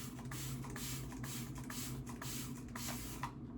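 A trigger sprayer mists water repeatedly onto very thick hair that is being slicked back, a rapid run of close, loud spray bursts in a steady rhythm, with no talking.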